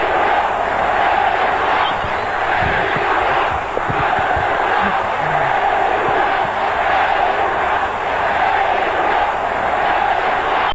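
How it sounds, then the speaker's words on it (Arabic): A packed football stadium crowd chants for Egyptian star Mahmoud El Khatib, a loud, steady mass of voices filling the whole stretch with rhythmic swells and no let-up. "ومين ينسى الجمهور وهو بيقول"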